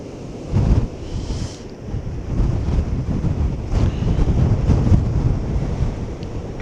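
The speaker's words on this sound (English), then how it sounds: "It is very breezy." Strong wind buffets the microphone on a Welsh coastal path while waves surge below sea stacks, a loud continuous roar with gusty swells, no voices.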